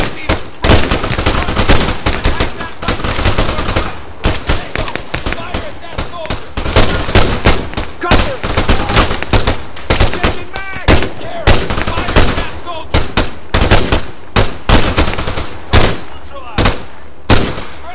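Dense, rapid gunfire from an ARMA 3 battle crackles almost nonstop, bursts of automatic fire and single shots packed close together and loud throughout, with voices calling out now and then beneath the shooting.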